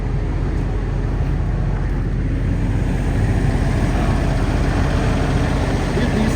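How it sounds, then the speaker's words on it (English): A steady, low diesel generator on a diesel pusher RV drones continuously at an even level, with a broad rumbling hum and no breaks throughout. "I'm gonna step outside so you could hear the generator running too."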